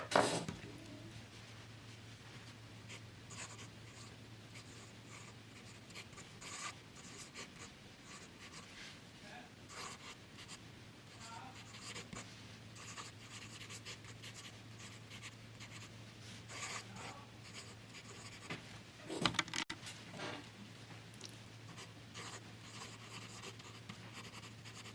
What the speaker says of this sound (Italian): Platinum Balance lo provo intanto così e poi vi faccio vedere le prove che ho fatto nelle settimane precedenti con altre carte,